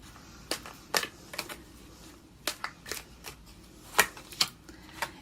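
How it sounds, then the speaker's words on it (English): Tarot cards riffle and snap as they are shuffled in sharp, irregular bursts with short pauses between, close and crisp against a quiet background. "You see me shuffling them. I'm shuffling right in front of you."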